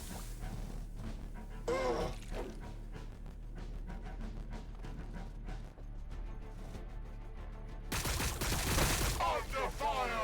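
Gunfire crackles through a Warhammer 40k Battlesector battle in fast, overlapping bursts of shots and impacts that run throughout, swelling into a louder, denser volley near the end.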